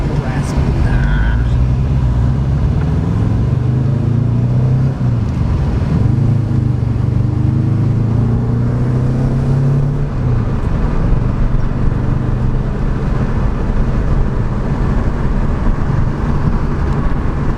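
A Subaru Impreza 2.5RS GC8 with a newly installed aftermarket exhaust idles and revs with a loud, steady, raspy drone that swells and eases. People talk over the engine note.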